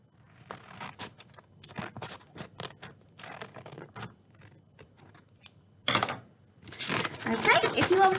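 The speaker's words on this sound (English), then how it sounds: "you're going to take your scissors and you're going to cut halfway along until you meet that crease there" Scissors snipping across folded paper, a close, irregular series of short crisp cuts that thicken into a longer, louder rustling stretch of cutting and handling toward the end, with no talking.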